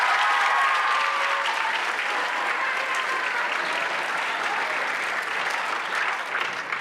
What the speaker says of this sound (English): give these folks a big round of applause